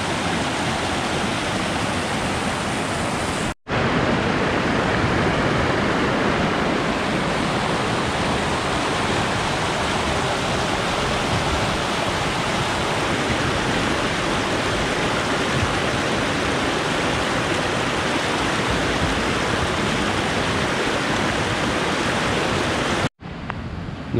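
Loud, steady rush of turbulent water below waterfalls in Marinette County, Wisconsin, a broadband roar held without letup for most of the stretch, dropping out briefly near the start and end.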